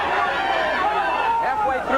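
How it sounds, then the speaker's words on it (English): Boxing arena crowd during Earnest Hart Jr. vs. Randy Hatfield, a dense, steady roar of many voices chanting a fighter's name, the rhythmic shouts rising and falling over continuous babble. "Crowd is not booing. They're saying,"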